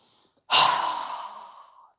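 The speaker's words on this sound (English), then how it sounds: "inhaling through our nose and exhaling with a strong breath with our mouth open wide" A deep breath during a yoga session: a short, soft nasal inhale followed by a loud, forceful open-mouthed exhale that rushes out and slowly fades.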